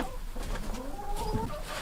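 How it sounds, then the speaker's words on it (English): A young farm rooster, hatched the previous spring, gives a quick run of soft clucks and short calls, close but fairly quiet, over a constant background hiss with no speech. "This is one of the roosters that we hatched out last spring"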